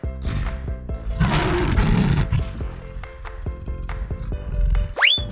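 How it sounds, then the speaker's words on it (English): A lion roars in a loud, sustained rumble over a busy layered backdrop of effects, ending with a sharp rising whistle-like sweep. "Lion."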